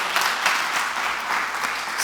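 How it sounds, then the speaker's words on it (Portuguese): Steady audience applause, loud and dense, with many hands clapping continuously and no voices over it. "Dá um aplauso aí, bem forte."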